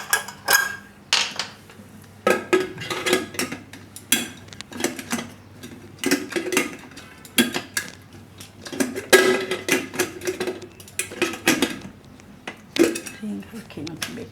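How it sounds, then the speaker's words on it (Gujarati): A pressure cooker lid is shut while steel pots and utensils clatter nearby in a home kitchen during tomato raitu and rice preparation, with dense bursts of metallic clanks and knocks throughout, and a voice talking now and then between them. "તો આને આપણે કુકરનું ઢાંકણું બંધ કરી દઈશું."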